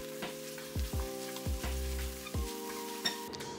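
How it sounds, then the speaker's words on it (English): Diced vegetables and finely chopped garlic sweat in a pan, with steady soft sizzling and several low thumps as the pan is stirred or shifted. "So we add all the diced vegetables to the pan and carry on sweating them a little longer"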